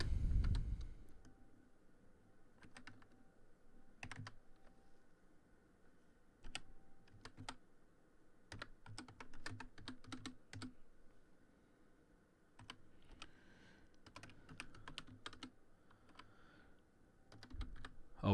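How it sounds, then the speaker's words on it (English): Computer keyboard typing a network RPC URL, soft keystrokes tapping in irregular clusters with pauses between, quiet and close, no voices. "new RPC URL, you want to type this in."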